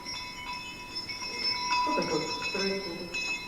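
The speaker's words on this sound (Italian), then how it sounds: "Poi queste campane." Bells ring with sustained bright tones during a live theatrical opera performance, a moderate resonant chiming that swells in the middle, with voices murmuring beneath.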